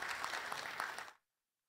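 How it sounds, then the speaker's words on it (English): Applause for panel guests at a Ghanaian communications authority event: a dense, steady burst of clapping that cuts off abruptly after about a second. "Let's welcome them with a round of applause."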